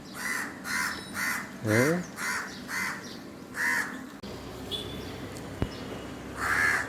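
A crow with newly hatched chicks caws repeatedly in a steady series of harsh calls, fairly close, with more caws later amid background noise.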